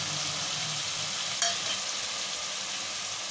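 Oil sizzles in a steady hiss as the base for a fish curry fries, with one brief clink partway through. No one speaks.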